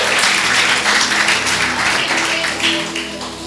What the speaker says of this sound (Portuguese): Glorificando o Senhor com palmas de vitória